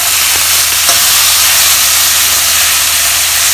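Pork soft bones browning in a hot pan, a loud continuous sizzle and hiss of frying with a faint low hum beneath and no voices.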